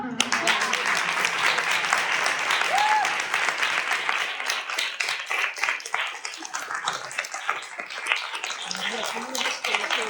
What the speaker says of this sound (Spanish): la mejor manera de recibirla no es con un aplauso, es con un súper aplauso